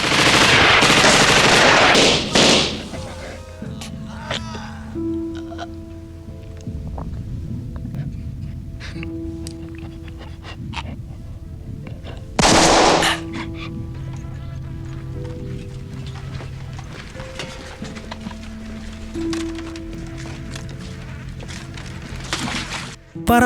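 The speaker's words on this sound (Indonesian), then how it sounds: "para partisan Soviet melancarkan berondongan tembakan ke arah Nazi-Nazi itu" A sustained barrage of automatic gunfire as Soviet partisans open fire on Nazis in a wartime scene, with loud dense bursts at the start and again midway over a low droning musical backdrop.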